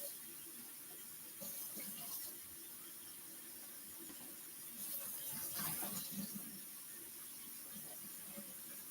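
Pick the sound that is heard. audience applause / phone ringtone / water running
water running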